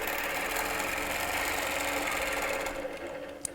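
A sewing machine stitching along a ruler, running in a steady fast mechanical whir for nearly three seconds, then slowing and stopping with a small click, close and loud, without speech.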